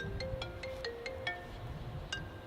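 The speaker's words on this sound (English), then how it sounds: "Another phone call." A phone ringtone for an incoming call inside a 2018 Toyota 4Runner Limited, a quick series of bright electronic tone pulses repeating over low road and cabin noise.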